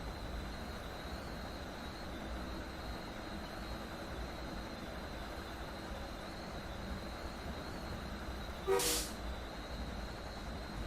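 An Amtrak Acela train rolls along the Northeast Corridor near Boston in Train Sim World 3, giving a steady low rumble with a constant high whine and a brief hissing burst near the end.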